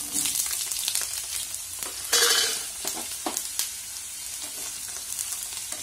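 Small cut pieces of eggplant sizzle and crackle steadily in hot oil, a dense frying hiss with occasional stirring scrapes and louder bursts, close and alone without voices.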